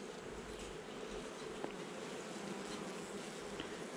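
Honey bees buzz steadily at a hive during spring queen-cell removal, a dense, continuous drone close by with faint clicks and no talking.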